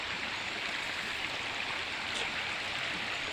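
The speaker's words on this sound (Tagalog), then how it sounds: "Ito, sapa lang to guys" Steady broadband rush of a shallow stream flowing over stones near a river in the mountains, continuous and fairly close, with no voices.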